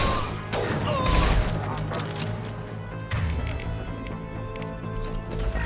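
Sniper gunfire and combat sounds from the video game Mass Effect 2 during the Dossier: The Assassin mission, with loud sharp shots and impacts over a dense, busy battle mix and no speech.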